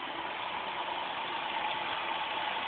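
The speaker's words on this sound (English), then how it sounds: "engine sounds quite nice." An Opel Senator 3.0 24v C30SE engine, recently given a top-end rebuild, idles steadily nearby with an even, continuous rumble and no voices.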